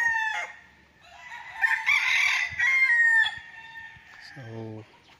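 Chickens at a farm coop in Liliw, Laguna, with a rooster crowing loudly and close, followed by a short burst of clucking, alone without talk.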